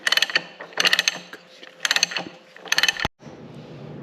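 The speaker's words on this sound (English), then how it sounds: "using an 1 7/8" socket, we're going to tighten this guy up" A ratchet with a 1 7/8 inch socket tightens a transmission nut on a John Deere B tractor, giving four loud bursts of rapid clicking, each about half a second long and separated by short pauses, with no talking.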